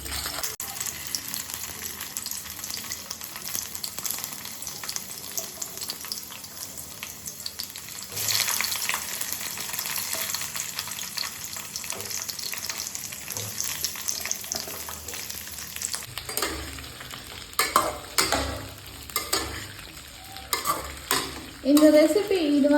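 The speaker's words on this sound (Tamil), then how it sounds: "ஃப்ரை பண்ணி எடுக்க போகிறேன்." Ivy gourd (kovakkai) frying in a pan in a home kitchen, a constant soft sizzle under repeated scraping and stirring strokes, with sharper clattering stirs growing louder toward the end.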